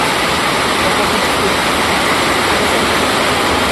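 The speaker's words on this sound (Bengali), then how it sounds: "আবার ছাদের থেকে জল আসছে।" Rainwater pours off a roof onto a terrace garden in a dense, loud, unbroken rush of splashing water that fills the whole stretch without pause.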